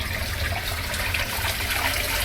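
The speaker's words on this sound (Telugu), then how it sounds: "ఇప్పుడు వాటర్ వదిలేస్తే ఆ వాటర్ అక్కడ వెళ్తుంది" Waste water is released at a newly built house and drains away as a steady, rushing flow of water heard close and continuous, with no one talking.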